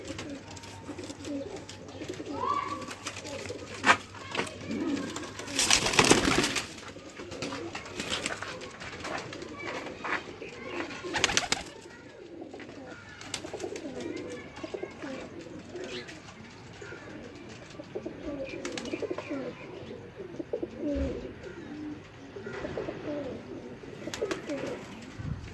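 Pigeons coo intermittently in a breeder's loft, soft throaty calls scattered over about twenty-five seconds amid rustling, occasional clatter and faint distant voices.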